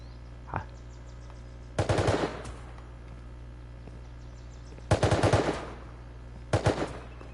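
Video game gunfire: several rapid automatic bursts, each lasting about half a second to a second, with a single shot near the start, loud and close against a quiet hum with no talking.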